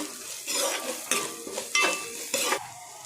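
A spoon scrapes and stirs vegetables sizzling in a hot pan for veg fried rice, with several distinct scraping strokes over a steady frying hiss, close by and with no talking.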